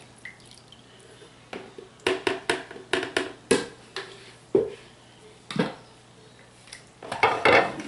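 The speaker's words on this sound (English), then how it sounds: "Give it a stir." Soap batter is stirred in a crockpot after stick blending: a series of irregular scraping knocks and wet clinks of a utensil against the pot, fairly close, with no talking.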